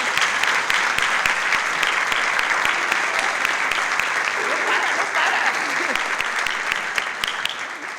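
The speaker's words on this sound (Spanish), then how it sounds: "déjanos darte un aplauso" An audience in a large theatre applauds at a book presentation, giving sustained, dense clapping that fills the hall at an even level for several seconds.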